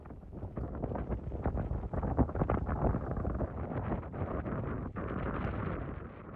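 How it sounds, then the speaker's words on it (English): Strong wind buffets the microphone out at the end of a harbor pier, a loud, continuous low roar with rapid gusting flutter and no let-up, heard alone without voices. "Out here at the end, and it is super windy."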